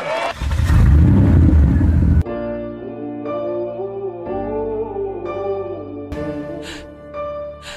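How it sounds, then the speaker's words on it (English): Race car engines start up and rev in a loud, dense roar for about two seconds before music takes over. "Drivers, start your engines."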